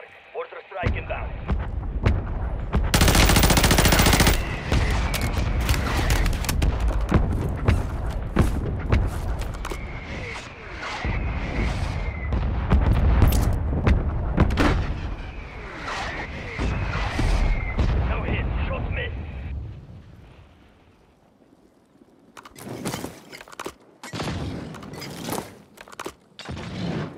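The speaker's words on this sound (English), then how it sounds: "Mortar strike inbound." Mortar strike explosions and gunfire in the battle royale game Warzone: heavy booms and scattered shots roll on over a loud, dense battlefield wash, with game voice callouts mixed in, before everything drops to quieter, sparser bursts near the end.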